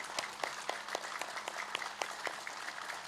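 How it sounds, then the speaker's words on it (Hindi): Hands clap loudly as part of a yoga exercise, in a quick, even rhythm of sharp single claps repeating about four times a second, heard fairly faintly and without talk. "एक बार ऐसे जोर से ताली जो बजा लेंगे"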